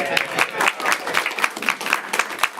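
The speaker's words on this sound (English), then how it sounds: "Clap for Leah." Audience clapping for Leah at a live event, a short burst of hand claps with uneven rhythm, fairly close and moderately loud, voices mingled beneath.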